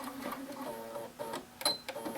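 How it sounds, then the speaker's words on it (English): A sewing machine stitching a short back stitch while sewing a Lark Tee, a quick close mechanical whirring with a faint click near the end, fairly quiet. "I'm going to do a little back stitch"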